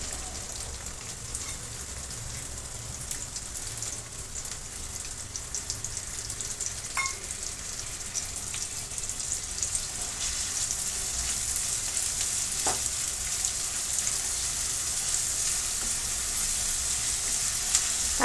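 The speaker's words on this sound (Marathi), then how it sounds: "तेल चांगलं गरम झाले की आपण कांदा भाजून घेणार आहोत" Two medium onions sizzle and crackle steadily in hot oil in a pan for a Marathi dry fish (sukat) dish, a continuous close, fairly quiet frying hiss with no one talking.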